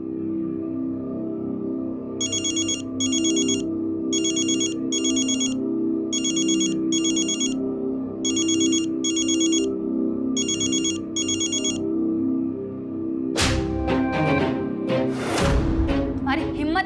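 A mobile phone ringtone plays in repeated paired electronic chirps, about eight bursts over a steady musical background, before a sharp clattering transition ends the ringing.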